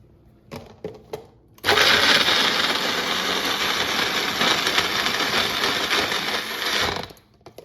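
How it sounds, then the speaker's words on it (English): A small blender whirs loudly grinding Italian sandwich ingredients, starting abruptly after a few clicks and running as a continuous high motor roar for several seconds before cutting off. "let's blend it up"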